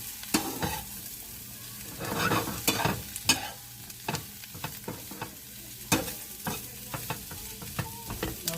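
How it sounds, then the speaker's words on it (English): Potatoes and onion for Southern smothered potatoes cook in a pan, with a soft, steady sizzle broken by repeated scraping stirs and clanks of a utensil against the pan, irregular and close, with no speech. "we're going to let these cook for about 5 minutes with the lid on. We want the onion to cook now."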